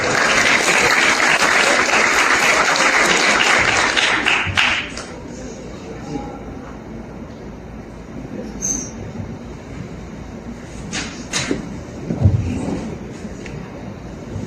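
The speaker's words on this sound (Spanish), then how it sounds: "Un fuerte aplauso otra vez." An audience at a civil law seminar lecture applauds loudly and steadily for several seconds, then the clapping stops, leaving a quieter room with scattered shuffling and small noises.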